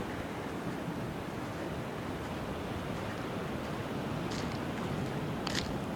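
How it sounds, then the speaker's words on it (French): Sea swell breaking along a harbour's north jetty on a calm morning: a steady, broad wash of surf and wind noise that fills the whole stretch, with no clear breaks and faint higher hisses near the end. "Oula, les belles vagues là."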